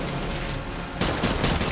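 Rapid automatic gunfire in the video game Death Stranding, a dense, loud, continuous barrage that grows harsher partway through, with no talking.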